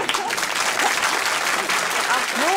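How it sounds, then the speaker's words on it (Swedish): Studio audience at a 1979 Swedish children's television show breaks into steady, sustained applause, loud and dense throughout with a few voices briefly rising above the clapping. "Applåd!"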